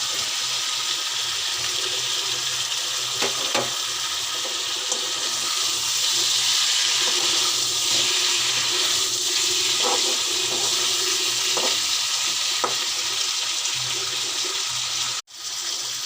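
Fried pointed gourd and potato go into a sizzling pan of sea tengra fish curry, giving a steady loud hiss with a few scattered pops and clicks and no speech.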